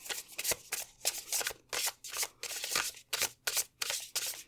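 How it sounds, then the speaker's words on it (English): A deck of tarot cards being shuffled by hand, a quick series of papery riffling bursts with short pauses between them, close and fairly quiet, with no talking. "we'll shuffle that again because that was not my best shuffle"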